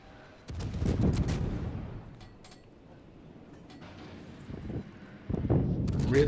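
Naval guns from warship turrets fire in a World of Warships-style game: a heavy booming salvo at the start, a quieter rumbling stretch, then another loud volley near the end.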